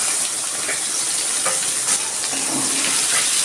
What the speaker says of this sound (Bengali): পেঁয়াজটা আমি একটু লাল লাল করেই ভেজে নেব